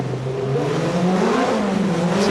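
Peugeot 205 rally car's engine revs hard on a short, tricky circuit at the 1988 Race of Champions, a steady, loud, rising mechanical drone that holds for a couple of seconds with no talk.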